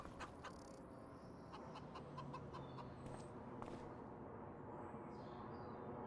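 Chickens in the video game Farming Simulator 25 cluck quietly and intermittently against a soft background hum, with a few sharper chirps scattered through.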